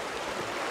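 Creek water rushes steadily just below a backcountry camp, a close, even wash of flowing water with no voices.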